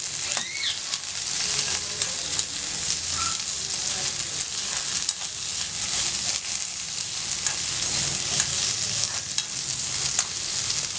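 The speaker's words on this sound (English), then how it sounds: "And now I'm going to add the sliced onions to this. And let us fry this well" Sliced onions fry in a pan with a continuous close sizzle and hiss, punctuated by light stirring scrapes and clinks of a spoon, with no talking.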